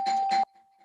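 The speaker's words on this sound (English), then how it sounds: "Hear my doorbell." A doorbell rings indoors with two loud chimes in quick succession, each ending on a lingering tone, then a brief sound at the very end.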